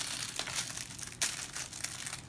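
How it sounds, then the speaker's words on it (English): Plastic outer wrap torn and crinkled off a Feiyu G4 Pro 3-axis handheld gimbal box, a close, continuous rustling with a sharper rip about halfway through. "Take this outer seal off."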